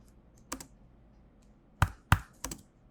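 A handful of computer keyboard keystrokes while entering a JavaScript if statement: one isolated tap, a pause, then three sharp close taps in quick succession over a quiet background.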